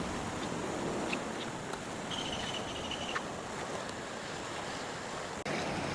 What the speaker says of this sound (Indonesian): Jadi air sungainya sedang meluap seperti ini teman-teman.